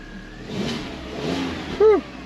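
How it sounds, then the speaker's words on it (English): Volkswagen Beetle engine with a cold start, a low mechanical churn and rising revs, then a short, loud tonal whine near the end. "So let's start the car."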